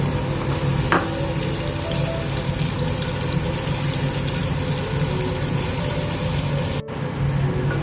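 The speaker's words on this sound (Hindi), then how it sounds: "हमारा पैन गर्म हो चुका है, इसमें हम ऑयल डालेंगे" Onions fry in about a cup of hot oil in a pan, making a steady, even sizzle over a low background hum, with one brief drop near the end.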